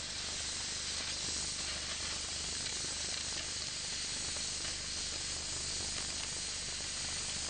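Manual oxy-fuel torch cutting a steel plate, a steady, loud, broadband roaring hiss that holds without a break from start to finish.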